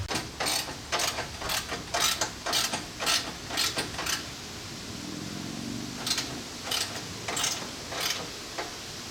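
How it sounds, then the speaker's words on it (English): Ratchet wrench tightening a bolt on a Ford Raptor bumper light bar mount, a close series of rapid ratcheting clicks in repeated strokes with short pauses between them. "we're going to go ahead and we're going to tighten this bolt up here"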